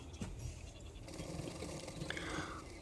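A sewing machine stitches a small baby blouse top, a quiet close mechanical whirr with rapid needle ticking that runs steadily throughout.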